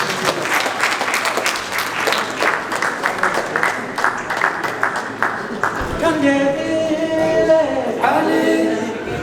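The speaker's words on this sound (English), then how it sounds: "please give them a round of applause" A crowd gives a round of applause at the opening ceremony of the Squash Federation of Africa Seniors Championships 2022, clapping loud for about six seconds before music takes over.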